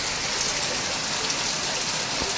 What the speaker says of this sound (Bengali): এইরকম বৃষ্টি হচ্ছে